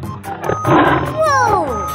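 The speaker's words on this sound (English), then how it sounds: "Tiger." A tiger gives a loud, rough roar with growling tones that swell and fall over about two seconds, close by, with some voice-like sound mixed in.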